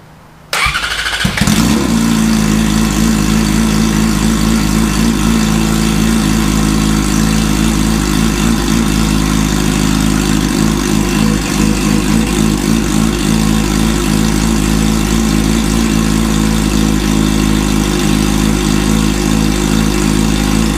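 A Yamaha R6 sport bike fitted with an Akrapovic megaphone exhaust, DB killer installed, fires up from cold and settles into a loud, steady, even idle that drones on close by without any revs.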